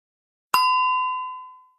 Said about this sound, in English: Click on the last word you read when the bell sounded.